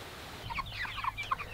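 Several meat chickens, about six weeks old, cluck close by in a short burst of soft, overlapping calls over a low background rumble.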